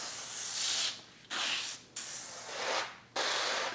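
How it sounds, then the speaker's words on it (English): Beef broth sprays onto butcher paper in four sharp hissing bursts, each lasting under a second, close and clear with short pauses between them. "all I'm going to do is start spraying our paper"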